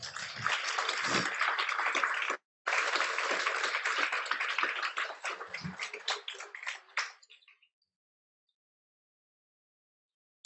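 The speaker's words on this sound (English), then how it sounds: "Let's give them all a round of applause" Audience applause at a Gold Award celebration ceremony, a steady crowd of clapping hands that cuts out briefly, resumes, then thins into scattered claps and fades to silence.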